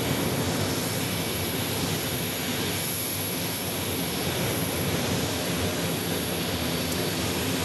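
An airliner landing at Sky Harbor Airport gives a steady, distant roar of jet engines, broadband and unchanging, with a faint high whine throughout and no talk.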